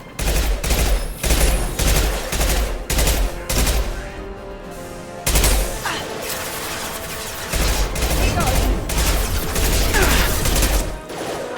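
Heavy gunfire in the sci-fi shooter Mass Effect 2 during a firefight: loud, dense volleys of rapid shots come in repeated bursts, with a short lull in the middle before the barrage resumes.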